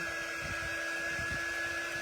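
A hair dryer blows steadily to partially dry wet screen-printing ink on a layered Halloween candy bag design, a constant close whooshing hum with a few whining tones held throughout.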